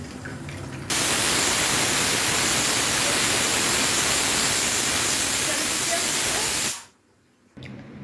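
A pressure cooker holding beef vents steam in a loud, steady hiss lasting about six seconds, then cuts off sharply into near silence.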